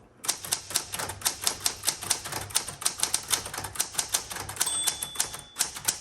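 Rapid clacking keystrokes of a 1973 Galaxie Twelve manual typewriter, a steady run of sharp mechanical taps with a brief pause near the end.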